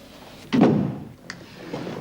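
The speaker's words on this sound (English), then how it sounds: "Close the door." A door is closed in a women's prison cell block, giving one dull thud followed by a fainter knock against a murmur of room noise.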